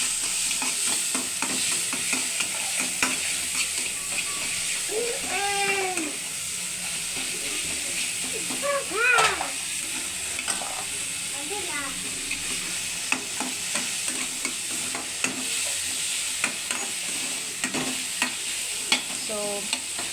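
Beans for a South Indian palya fry in a pan with a pinch of salt, a steady sizzle with repeated spoon scrapes and stirring clatter throughout, close and moderately loud, with faint voices in the background.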